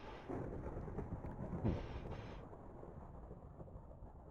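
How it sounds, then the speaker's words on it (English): Thunderstorm outside a house, a faint, distant low rumble of thunder rolling over steady rain-like noise, with a soft swell near the middle before settling back into a dull wash. "It's a thunderstorm outside."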